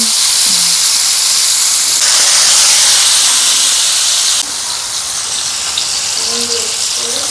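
Loud, steady hiss of hot oil sizzling after fish is dropped in, surging briefly then settling to a constant broadband crackle with no talking.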